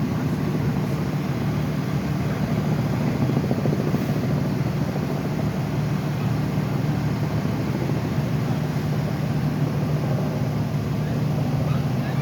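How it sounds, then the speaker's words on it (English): Helicopter circling above a four-alarm structure fire on West Street in Hyde Park, a steady, loud broadband rotor and engine roar filling the whole stretch without pause. "First helicopter just arrived up in the air over there."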